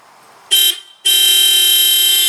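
A loud aftermarket HELLA Sharptones car horn on a 2008 Pontiac Vibe blares twice nearby: a short blast, a brief pause, then a long sustained honk.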